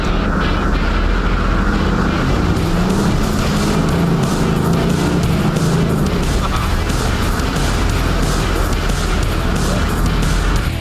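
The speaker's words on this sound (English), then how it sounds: "So long as he can hear that truck roaring, he's happy." A 4WD truck in a convoy on a Cape York off-road trip roars loudly and continuously as it pushes through rough terrain, with a constant heavy engine drone and rattling that never lets up.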